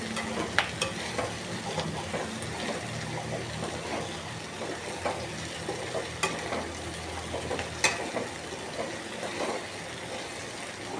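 Turkey berries frying with tamarind in a pan for pickle, a quiet, continuous sizzle with irregular clicks and scrapes of a stirring spoon, close and faint, no voices.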